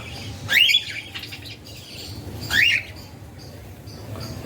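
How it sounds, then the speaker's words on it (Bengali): A pet Java sparrow kept indoors gives two short, sharp calls about two seconds apart, each a brief bright squawk standing out clearly over quiet room noise, with no talking. "পাখি আমার ওই সেই বসে আছে কাজকর্ম নেই পিক করে ডাকছে খালি"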